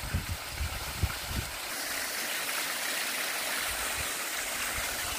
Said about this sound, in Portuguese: é uma cachoeira pequena, né? Mas ela é bonita também, sai lavando as pedras.